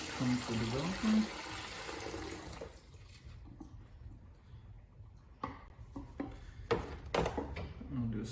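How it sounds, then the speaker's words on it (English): Beer-based film developer is poured out of a development tank in a short splashing stream near the start, followed by quieter handling clicks and knocks, with a voice briefly present. "We're going to pour the developer out with about 15 seconds left."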